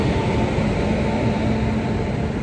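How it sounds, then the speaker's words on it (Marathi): Electric-engine passenger train, the Mangala Express, rumbling steadily at a station, a continuous loud broadband roar with a constant high whine running throughout. "आपली ट्रेन गेलेली असा आणि या ट्रेनला असा इलेक्ट्रिक इंजिन आणि डबे असतात इलेक्ट्रिक कोच मस्त"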